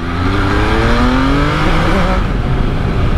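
An MV Agusta Turismo Veloce motorcycle, a demonstration bike with a semi-automatic gearbox, accelerates hard, its engine note rising in pitch loudly and close before settling.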